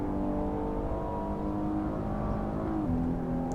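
A Maserati MC GT4 engine in the Assetto Corsa racing game holds a steady high-rev drone near its 6,000–6,500 RPM limit. The note stays continuous and loud, then steps down slightly near the end, with no talking.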